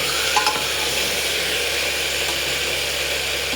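Mutton goes into a hot spice tempering in a pressure cooker, producing a constant close sizzling hiss with a couple of faint clinks near the start and no speech.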